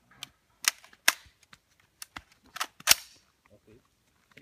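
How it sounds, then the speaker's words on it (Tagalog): Gunfire at an outdoor firing range in Baguio: a series of sharp, loud cracks spaced irregularly, separated by quiet gaps, each shot snapping out and dying away quickly. "dalawang putok."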